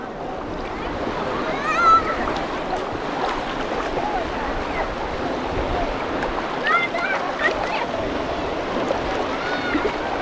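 Rough Black Sea waves wash and splash close by in murky water, a steady roar of surf under a voice and other people talking nearby.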